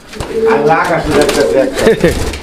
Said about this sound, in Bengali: এটা হচ্ছে রেড কালারের কালারিং গোল্লা কবুতর